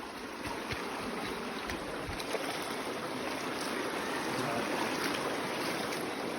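River water rushes and splashes around a vehicle crossing a river on the way to a fiesta, a dense, continuous hiss and churn with occasional knocks, heard close and fairly loud without speech.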